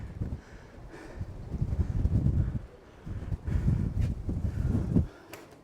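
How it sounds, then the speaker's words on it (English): Strong gusty wind buffets the microphone in loud, low rumbling bursts that rise and fall several times, with no talking. "It's so windy."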